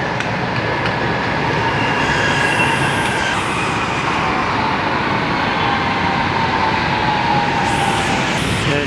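An MRT metro train in Manila rumbles steadily past at close range near Timog, with a broad roar, faint metallic squeals and brief high whines over the rolling noise.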